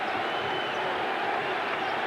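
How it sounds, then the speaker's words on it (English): A steady roar from a basketball crowd at Madison Square Garden during a Bulls–Knicks game, a broad continuous wash of cheering voices with no distinct breaks. "This Garden crowd is enthusiastic tonight."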